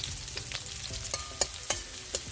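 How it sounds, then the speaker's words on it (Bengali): Onions fry in a pan for a Bengali egg and raw jackfruit dish, with a continuous crackling sizzle broken by several sharp clicks from stirring. "পেঁয়াজগুলোকে লাল লাল করে ভেজে নেব"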